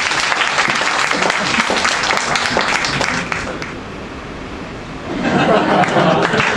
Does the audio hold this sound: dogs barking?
no